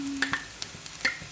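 Ground masala paste of coconut, dried chilli, cinnamon, clove and cardamom goes into a pan with fried onion and capsicum, giving a soft sizzle broken by a few short scraping stirs, close and alone.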